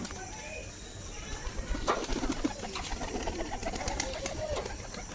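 A pigeon coos repeatedly close by against a steady background hiss, with a few sharp clicks mixed in.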